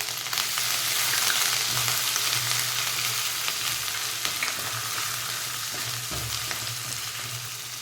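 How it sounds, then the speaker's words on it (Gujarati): Cumin seeds fry in hot peanut oil, giving a steady, loud, close sizzle and crackle that continues throughout and fades slightly toward the end, with no voices. "હવે તેલ થાય એટલે આપણે જીરું એડ કરી દેવાનું"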